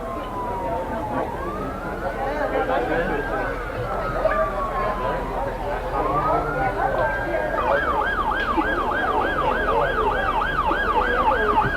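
An ambulance siren at a Labor Day parade in Mooers, sweeping in long wails before switching to a rapid yelp, loud and steady over crowd and street noise, with people talking throughout.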